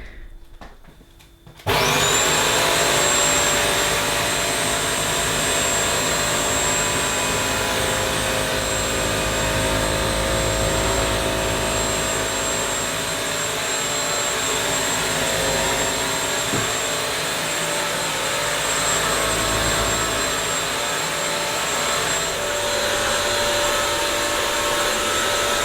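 A Scuba carpet cleaner starts after a moment of quiet, then runs with a loud, steady high-pitched whine and suction roar while vacuuming up a puddle on a large room's carpet.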